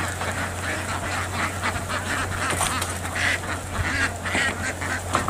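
A large flock of ducks being herded across a rice field in Vietnam keeps up a dense, continuous chorus of quacking, with many overlapping calls at moderate distance over a low steady hum.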